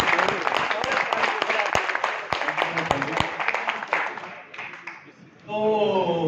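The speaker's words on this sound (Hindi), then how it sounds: "एक बार जोरदार ताली" An audience at a technical presentation claps loudly and raggedly, dense crackling applause that thins out over several seconds before a voice begins speaking.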